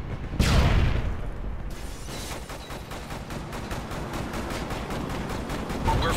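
Osprey gunner fire in Call of Duty: Modern Warfare 3 opens with a heavy blast, then settles into a rapid, even stream of automatic shots that rattles on for several seconds.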